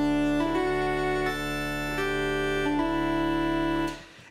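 Uilleann pipes chanter from the Spitfire Audio Labs software instrument plays a short reedy melody over a constant low drone, each note stepping cleanly into the next before the sound cuts off near the end.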